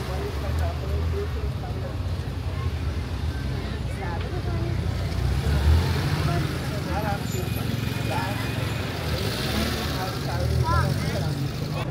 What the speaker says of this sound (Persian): خیلی هم ترافیک